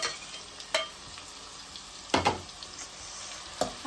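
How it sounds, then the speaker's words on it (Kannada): Liver frying in a hot pan, a faint steady sizzle with a few sharp stirring clatters breaking through at intervals. "ಹಂಗೆ ಬಿಸಿ ಬಿಸಿ ಲಿವರ್ ಫ್ರೈ ಮಾಡಿಬಿಟ್ಟು ಒಳ್ಳೆ ರೊಟ್ಟಿ ಮಾಡಿ ತಿನ್ನೋಣ ಅಂತ ರೆಡಿ ಮಾಡಿಸ್ತಾ ಇದ್ದೀನಿ"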